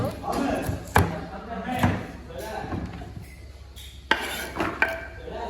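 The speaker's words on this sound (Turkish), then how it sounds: "Annem fasulyeleri doğramaya başlıyor." A knife chops through green beans in repeated uneven knocks against a board, sometimes sharp and sometimes dull, while people talk over the cutting in a home kitchen.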